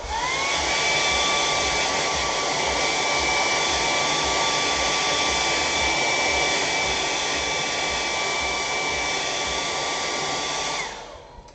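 A hair dryer blows steadily on wet acrylic paint on a canvas, a loud continuous whine with an even airflow rush for about eleven seconds before it switches off and winds down at the end.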